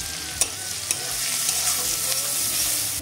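Onion with bay leaf and whole dried red chillies frying in hot oil, a loud close sizzle with crisp hissing and a few sharp crackles and stirring scrapes, no talk.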